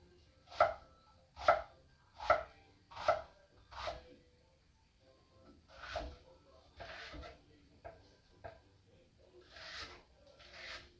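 A knife chops food on a cutting board while mincing ingredients for a Griswold cast-iron quiche, with four sharp, evenly spaced strokes followed by softer, scattered chops and scraping. The sounds are close and there is no talking.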